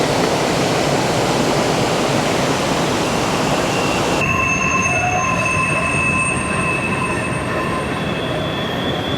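A train passes in front of a dam with loud, sustained squealing brakes, piercing steady tones over heavy rumbling wheel noise that continue for most of the stretch, close and very loud throughout.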